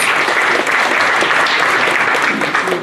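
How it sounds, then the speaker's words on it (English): Loud, full applause from the audience right after a song at a New Year celebration, with close, dense clapping holding at a steady level throughout. "Can we please have another round of applause?"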